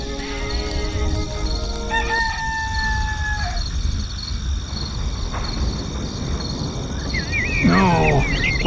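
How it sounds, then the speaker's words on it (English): A rooster crows in the video game Black & White 2, its drawn-out call rising over a steady bed of insect-like chirping and ambient game sound, with no speech. "This rooster wakes me up every single day."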